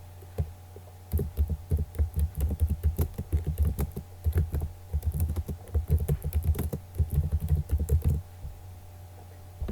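A quiz question is typed on a computer keyboard, a steady run of close, rapid key clicks in bursts over a low electrical hum, with a short pause near the end.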